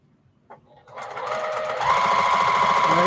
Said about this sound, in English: sewing it together like this